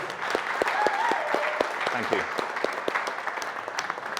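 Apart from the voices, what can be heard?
audience applause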